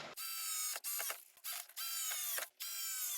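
16mm screws are driven into mounting clips for a storage basket inside an Elddis caravan. A close, clear series of short, high whirring mechanical bursts is broken by brief pauses, with no talking.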